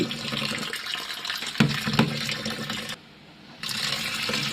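Beans being rinsed under running tap water, a continuous close splashing rush with a couple of louder knocks, a brief pause in the flow, then the water resuming.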